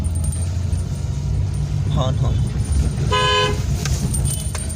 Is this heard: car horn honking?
yes